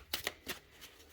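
A deck of tarot cards given a quick shuffle by hand, a few soft, close riffling bursts in rapid succession, quiet and brief.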